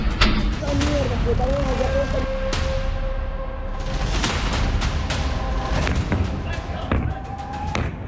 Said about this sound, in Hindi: रात 1 बजे के बाद वेनेजुएला में धमाके शुरू हुए।